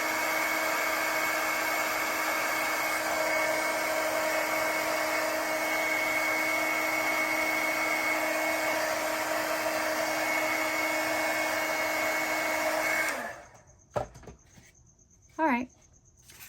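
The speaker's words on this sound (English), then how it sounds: "I think I'll take my heat gun to this so I can get it dry." A heat gun blows hot air over freshly crackle-painted chicken decor, a steady whirring hiss with a constant whine that runs close and even for about thirteen seconds, then cuts off, leaving brief faint handling noises.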